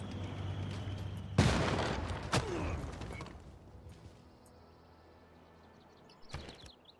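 Tank attack in the Civilization VI strategy game: a sharp, loud blast followed by a rumbling, crackling decay and a second impact, fading to quiet before a brief final clank.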